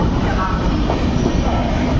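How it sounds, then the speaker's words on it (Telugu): Gitanjali Express rolling over a double diamond crossing as it enters Gondia Junction: a steady, close rumble of rail wheels with faint clatter and a thin squeal over two seconds. "మన ట్రైన్ అయితే డబుల్ డైమండ్ క్రాసింగ్ మీద నుండి అయితే వెళ్తుంది"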